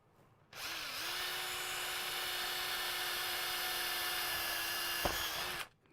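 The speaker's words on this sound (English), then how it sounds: "Okay, drill a hole." A power drill bores a hole for a woodshop blast gate install, its motor spinning up quickly and holding a steady, close, loud whine for about five seconds before stopping abruptly.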